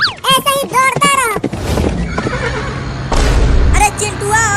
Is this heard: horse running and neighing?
yes